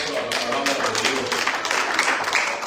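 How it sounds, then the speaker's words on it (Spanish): A church congregation claps together during a Spanish-language service, steady close applause mixed with murmured voices and music underneath. "Un aplauso a la palabra de Dios."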